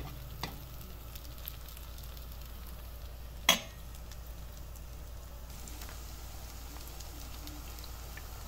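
A chicken cutlet mixture spread flat in a pan fries with a steady, even sizzle of hot oil, with a single sharp crackle or pop partway through.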